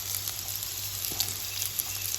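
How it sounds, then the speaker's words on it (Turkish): Oil sizzles and crackles steadily in a hot pan as boiled dumplings (mantı) fry, a continuous bright hiss with small pops, close by and no talking. "mantıları ekliyorum. Evet, ekledim. Birazcık kavuruyorum."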